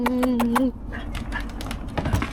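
A puppy whimpers close by in a short, high, wavering whine that lasts under a second and then gives way to quieter rustling and faint breathy sounds.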